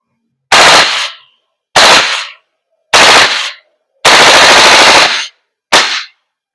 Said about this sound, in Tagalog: So switching to full auto.